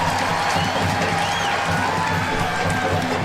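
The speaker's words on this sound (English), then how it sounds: "the crowd applauds her for it" A large stadium crowd at a women's professional soccer match, Washington Spirit against Portland Thorns, applauding after a shot earns a corner: a dense, steady wash of clapping and cheering, loud and continuous, with a commentator talking over it.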